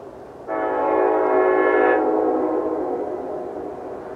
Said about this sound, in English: Listen to that horn.